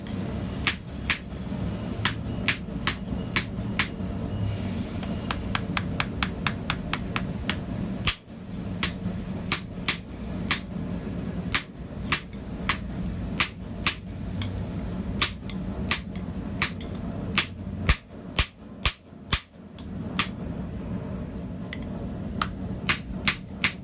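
A hammer strikes a mild steel tong blank on an anvil, sharp ringing metallic blows falling in quick steady runs, broken by brief pauses between bursts, over a low background hum.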